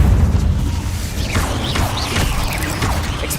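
Incendio fire spell cast in the Hogwarts Legacy video game, a loud burst with whooshing, crackling and mechanical clanking layered over a steady low rumble of game sound, no talk.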